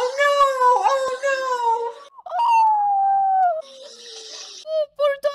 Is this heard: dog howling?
yes